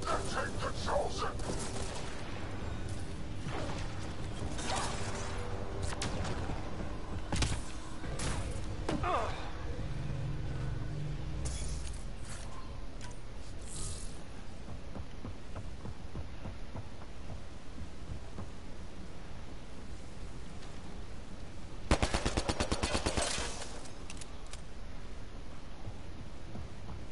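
Gunfire from a sci-fi shooter battle rings out in bursts of sharp shots through the first half, with a dense louder volley near the end, all over continuous battle noise and voices talking.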